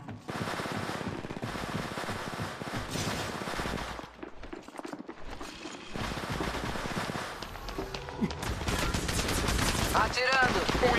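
Sustained automatic gunfire rattles in the video game Apex Legends, dense bursts of shots continuing almost nonstop, with footsteps and brief voices mixed into the loud battle noise.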